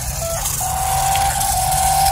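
Orbi RC toy car driving, a close, continuous high electric motor whine over a buzzy low rumble, the pitch jumping and holding steady as it runs.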